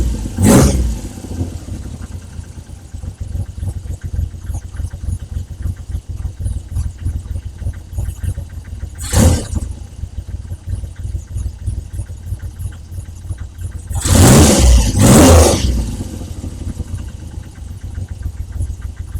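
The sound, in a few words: Triumph Trident T160 motorcycle engine starting and idling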